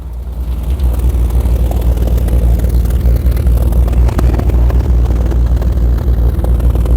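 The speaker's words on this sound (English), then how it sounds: "I hope you can hear this lovely exhaust tone." Engine of a 1972 Triumph 2000 Mk2, a neglected barn find running on choke, idles with a loud, steady, throbbing exhaust drone that stays constant throughout, recorded up close.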